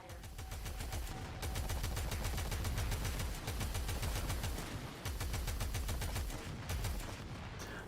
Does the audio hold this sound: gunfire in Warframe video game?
yes